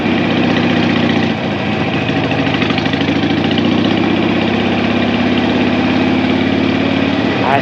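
A 2006 Harley-Davidson Sportster rumbles steadily at low speed over rough, broken pavement, its loud V-twin drone and vibration continuous and close, with a slight rise in pitch near the end.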